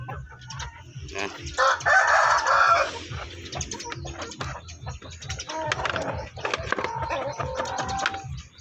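Chickens cluck and a rooster crows at a backyard poultry setup, the crow rising loud in the middle and broken clucks and pecking sounds scattered around it, close and without talk.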